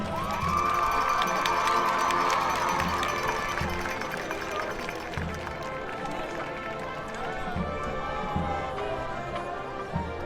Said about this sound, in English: Let's have a round of applause for your senior princess, Stephanie Sylvia.